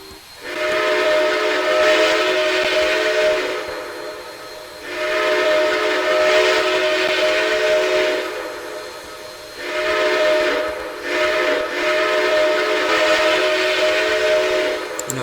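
The six-chime steam whistle of Southern 630 in the Trainz game sounds three long sustained blasts with short gaps between, loud and clear with no talk.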